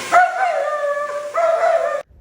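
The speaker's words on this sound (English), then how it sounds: "You can hear him barking right here." A dog gives a drawn-out, whining howl-like bark, two sustained tonal yelps close by, ending abruptly.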